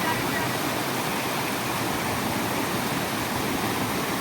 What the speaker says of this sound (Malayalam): ഒരു വെള്ളച്ചാട്ടമുണ്ട്.